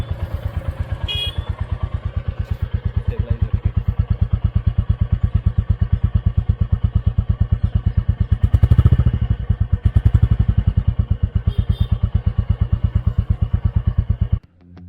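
A Royal Enfield Classic 350 motorcycle idles with a steady, loud single-cylinder thump and mechanical clatter, briefly swelling around nine seconds as the throttle is blipped, then cutting off at the end.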